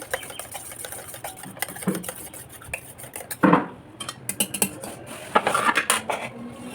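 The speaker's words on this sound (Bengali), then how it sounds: "এবার এটাকে ভালোভাবে ফেটিয়ে নেব।" A utensil rapidly whisks sour yogurt and cooled milk in a bowl, giving a clinking, scraping metallic rattle that comes in uneven bursts and grows busier toward the end.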